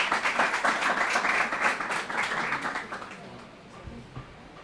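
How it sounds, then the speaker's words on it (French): An audience of schoolchildren at a school competition claps steadily, a dense patter that fades out after about three seconds, leaving a quieter room. "On applaudit."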